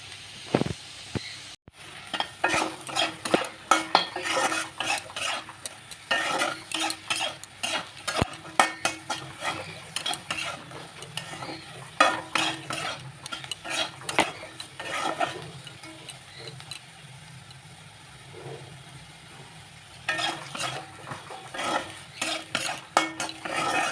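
Potatoes frying in a pan while being stirred, with repeated scraping and clinking of a utensil against the metal over a soft sizzle, close and steady for a long stretch with brief pauses.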